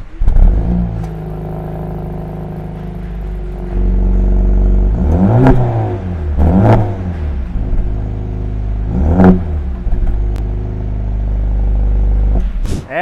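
A 2023 Mercedes CLA45 AMG 4matic four-cylinder idles with a deep exhaust rumble, then revs sharply several times, each rev rising and falling back, recorded close to the exhaust and loud.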